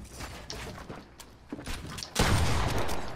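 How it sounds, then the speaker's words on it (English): Pump shotgun blasts in Fortnite, a few sharp shots in a busy game mix, the last one loud and close with a sustained burst of noise after it. "Give me that pump shot."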